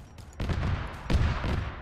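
Rapid gunfire from an Arma 3 battle with Warhammer 40k forces, sustained bursts of heavy shooting close and loud, swelling partway through, with no voices.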